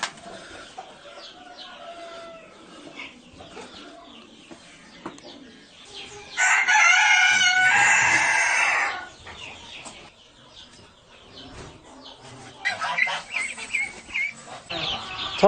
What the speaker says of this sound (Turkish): çeşitli türlerde tavuklar da besliyorum